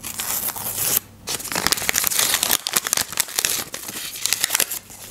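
A paper surprise packet is crinkled and torn open close up, with dense bursts of crackly rustling and a short pause around the one-second mark, no voices over it.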